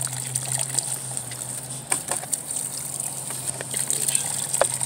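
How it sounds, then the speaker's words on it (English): Water drains in a steady trickle and gush from the pipes of a pool filter once its top piece is removed, a continuous near wash with a few faint knocks and no talking. "you'll see it draining fast there now. And you're just draining what's in the pipes basically"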